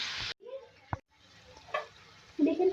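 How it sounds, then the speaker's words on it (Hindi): Cubed potatoes fry in hot oil in a pan, with short bursts of sizzling broken by quiet gaps and a brief clatter, and a voice is heard between them. "मैं इसमें आलू ऐड करूँगी क्यूब्स में। तो फ्राई करेंगे पहले तो।"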